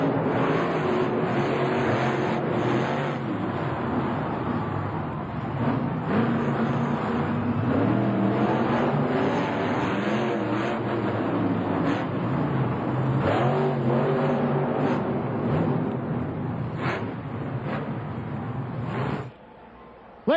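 Monster trucks racing in the final race of the night at the Pontiac Silverdome stadium arena, a loud, continuous engine roar with rising and falling revs and crowd-filled arena ambience throughout, cutting off abruptly at the end.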